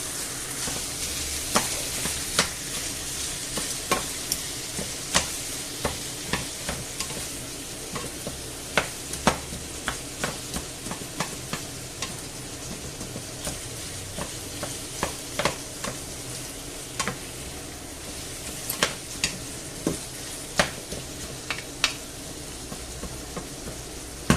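Mince browning in a pan for spaghetti bolognese, sizzling steadily while a spoon stirs it, with frequent sharp clicks and scrapes against the pan, close and continuous, no talking.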